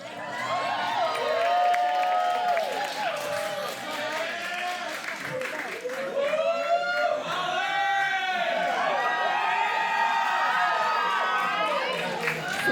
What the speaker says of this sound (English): The most applause I've ever gotten for being a librarian.